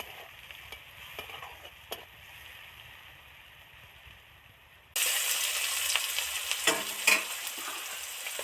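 Sliced onions dropped into a wok of hot oil with dried red chillies while cooking a Bengali amudi fish curry: faint background hiss, then an abrupt loud sizzle that keeps crackling with stirring scrapes.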